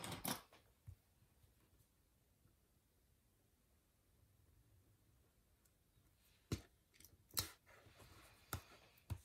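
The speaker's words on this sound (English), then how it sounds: "I'm going to cut this on the line" Scissors snipping along a marked line on paper for a planner sticker page, a few sharp close cuts clustered near the end after a long quiet stretch, with a single clip at the start.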